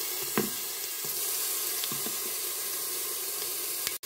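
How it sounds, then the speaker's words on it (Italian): Soffritto sizzling in an Instant Pot on medium sauté mode, a steady close hiss of frying with a few small pops and clicks, ending in an abrupt cut, no voices. "Sto facendo il soffritto in modalità sauté"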